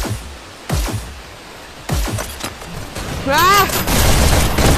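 Video game gunfire in a Hyper Dash capture-the-flag match comes as several loud bursts and booms in quick succession, with a short voice exclamation among them.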